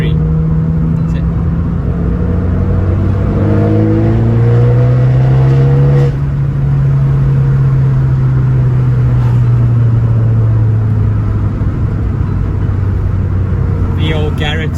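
An Abarth 595 engine with an old Garrett turbo drones and revs loudly in third gear, its pitch rising and falling steadily, with a constant rumbling exhaust throughout.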